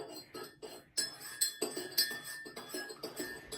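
A spoon clinks repeatedly against a cup while stirring white sugar into coffee, producing a steady run of bright, close ringing taps.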